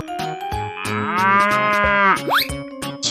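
A single loud cow moo, drawn out and close, swelling in the middle and ending with a short upward sweep.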